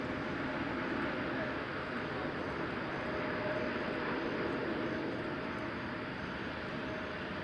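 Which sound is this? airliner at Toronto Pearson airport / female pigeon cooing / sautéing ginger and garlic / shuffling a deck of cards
airliner at Toronto Pearson airport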